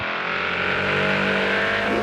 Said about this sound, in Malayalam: ഈ ഗെയിം സൗണ്ടിലെ ഈ വണ്ടിയുടെ സൗണ്ട്